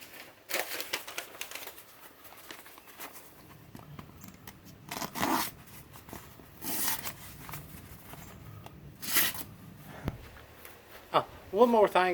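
Several short, sharp scraping slices of a handmade railroad spike knife cutting through a sheet of paper, each stroke a brief crisp rasp with quiet gaps between, followed by a voice at the end.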